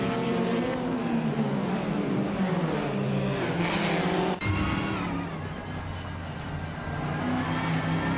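Race cars, a Ford Mustang and a 2021 Chevrolet Camaro, roar past on track with rising and falling engine whines, a sharp change midway as one car passes close, and loud sustained racing noise throughout.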